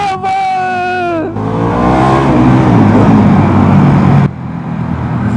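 Harley-Davidson Pan America 1250 Special motorcycle engine revving up loudly from a low idle into a rising, rumbling roar, then dropping back, heard close with a brief pitch slide before the throttle opens.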